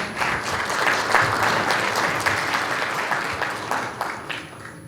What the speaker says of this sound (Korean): 모두들 큰 박수로 환영해 주시기 바랍니다